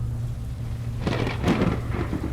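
Heavy rain pours steadily, then a loud rolling thunderclap breaks in and rumbles on, close and dominant.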